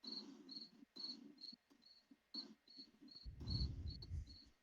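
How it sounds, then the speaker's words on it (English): Crickets chirping outdoors in steady, evenly spaced high pulses, fairly close, with a brief low rumble of background noise partway through. "Dave, are those crickets coming from your outside?"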